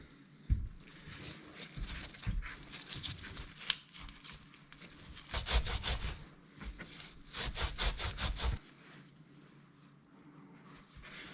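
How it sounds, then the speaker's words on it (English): A Scotch-Brite pad rubs around a gearbox shaft during a Suzuki DRZ400 rebuild, giving faint, rhythmic scrubbing strokes in uneven bursts that fade into quiet near the end. "I'll probably run a little bit of a Scotch-Brite pad around there real quick actually."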